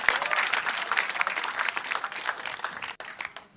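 Audience at an Indonesian stand-up comedy show claps in dense, steady applause throughout, loud and continuous with a brief dip near the end.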